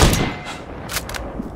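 Gunshots in an open world shooter video game: a few sharp, loud cracks spaced across a short stretch, with a final shot at the very end over a low rumbling backdrop.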